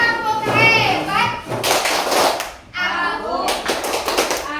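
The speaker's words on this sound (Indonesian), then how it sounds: "mari kita berikan tepuk hebat bersama-sama kepada kita semua" Children in a classroom perform a group applause chant, clapping together in bursts of rhythmic claps mixed with young voices chanting and calling out, close and lively.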